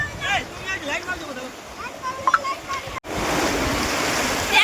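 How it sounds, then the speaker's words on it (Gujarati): Sea waves wash in at Mandvi beach on Uttarayan day, a steady broadband surf rush that grows fuller in the second half, with voices and laughter from beachgoers mixed in. "હજુ તો લહેર આવી છે"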